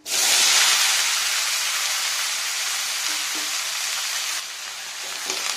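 Drained ridge gourd and potato pieces hitting hot oil tempered with five-spice, with a sudden loud hissing sizzle that stays strong and slowly eases, plus a couple of stirring knocks.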